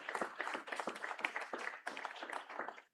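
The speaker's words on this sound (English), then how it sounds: "Please give a big round of applause for Bodan." Sparse applause from a small group at a school board meeting honoring a student, faint and fairly distant, with individual claps audible in an uneven patter.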